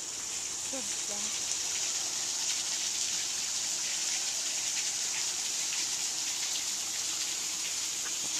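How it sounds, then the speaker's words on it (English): Water rushes down the wooden chute at Mabry Mill in Virginia, a constant bright gushing hiss that holds steady throughout, with a brief faint voice early on. "See, the water came down that chute there"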